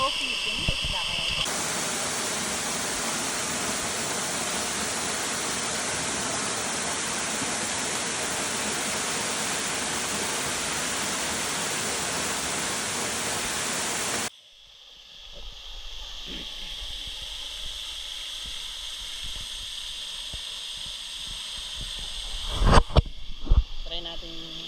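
Taktak Falls in Siargao roars as a loud, steady broadband rush of falling water for about fourteen seconds, then cuts to a much quieter, distant wash with faint background activity and a few sharp knocks near the end.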